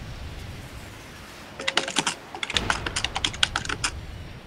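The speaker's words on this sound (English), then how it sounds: "The keyboard sounds?" Rapid typing on a computer keyboard, a burst of quick, close key clicks in uneven rhythm after a quiet start, with no talk over it.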